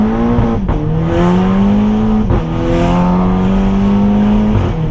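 A car driving off hard with a loud, close engine climbing steadily in pitch through quick gear changes, brief dips between shifts, and no talk.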